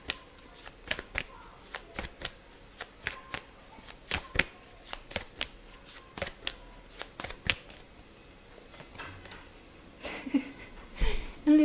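Tarot cards are shuffled in repeated quick riffling bursts at close range, with a little handling noise near the end.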